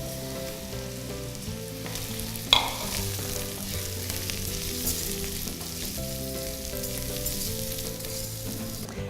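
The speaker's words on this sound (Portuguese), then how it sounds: "já vou colocar aqui agora o meu arroz. No caso, estou usando aqui o arroz arbóreo" Arborio risotto rice frying in olive oil with garlic and onion in a pan, a steady close sizzle running throughout with a brief clatter of stirring partway through.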